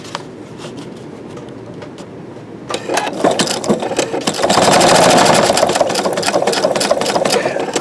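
A Husqvarna Viking Designer Diamond sewing machine starts up fast and stitches steadily, a loud, even mechanical whir with quick repetitive clatter that builds and holds near the microphone.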